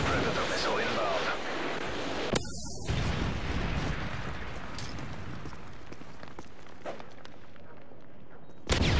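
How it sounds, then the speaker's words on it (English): Deep rumbling explosions from a Predator missile airstrike in Call of Duty Modern Warfare 3 multiplayer, with sharp blasts and scattered gunfire over a constant battlefield roar and game voice lines. "Friendly airstrike on the way. Friendly Predator missile inbound."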